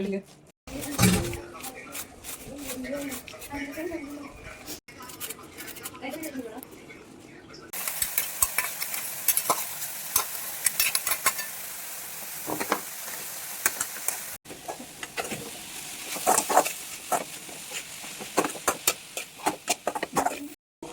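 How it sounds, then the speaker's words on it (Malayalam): Mustard seeds sizzling and popping in hot oil for a country-style chicken curry cooked over a wood-fired stove, a steady crackle with stirring knocks, under continuous talk. "നമ്മൾ ചിക്കനിലേക്ക് വേണ്ടിയിട്ടാട്ടോ ഈ കടുക് വറക്കുന്നത്"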